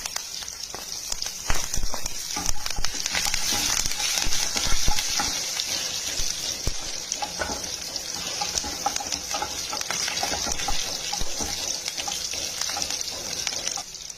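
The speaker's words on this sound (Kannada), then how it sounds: "ಇವಾಗ ಬೆಳ್ಳುಳ್ಳಿ ಹಾಕ್ತಾಯಿದ್ದೀನಿ, ಕರಿಬೇವು ಹಾಕ್ತಾಯಿದ್ದೀನಿ." Garlic and curry leaves frying in hot oil, giving a steady, bright sizzle with crackling pops and occasional stirring scrapes, close and continuous throughout.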